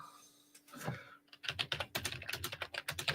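Rapid typing on a computer keyboard, a steady run of close, crisp key clicks after a brief quiet start, with no voice over it.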